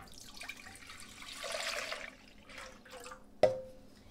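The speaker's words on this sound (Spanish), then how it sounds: "vamos a comenzar en una ollita honda, vamos a comenzar a agregarle las 4 tazas o 1 litro de leche." Milk pours into a deep cooking pot with a splashing, gurgling rush that swells and then fades, followed by a sharp clink near the end.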